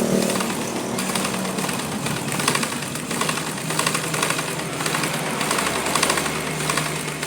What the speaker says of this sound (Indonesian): Baru kita jahit.